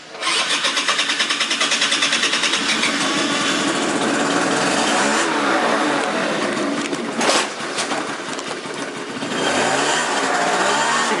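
A small motorbike engine runs steadily at night while being ridden, a close, constant buzzing drone with brief surges and a short spike of revving partway through.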